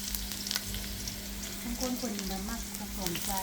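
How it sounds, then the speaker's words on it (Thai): Sliced raw chili and garlic stir-frying in hot oil, a close continuous sizzle with scraping stirs and a brief faint voice in the background. "เอาพริกลงเนาะพัด"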